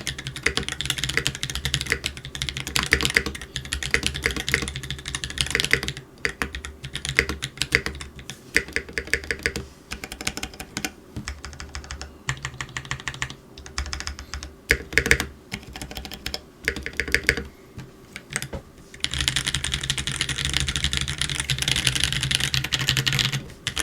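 Typing on a GrayStudios Space65 custom 65% keyboard fitted with lubed Holy Panda tactile switches, a steady near stream of keystrokes with brief pauses and a denser burst near the end, heard alone with no talking.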